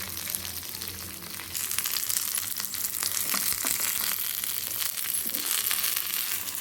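Ridge gourd sizzles in a hot pan for chutney, a steady frying hiss that grows louder after a moment, with scattered crackles and stirring scrapes.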